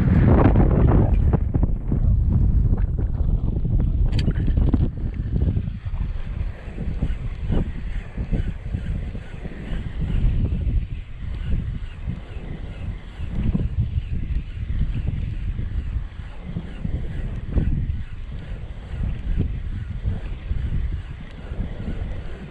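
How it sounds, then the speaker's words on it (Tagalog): Strong wind buffeting a microphone aboard a fishing boat at sea, a steady loud rushing roar with gusty swells and faint water sounds underneath, no voices. "Grabe ang hangin talaga"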